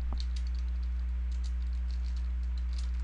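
Light keyboard typing on a computer while coding a game in an editor, scattered soft clicks over a steady low electrical hum, quiet and close, no voices.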